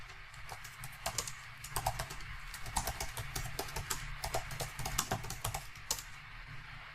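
Rapid, uneven keystrokes clatter on a computer keyboard as terminal commands are entered, a steady close run of soft clicks with no talking.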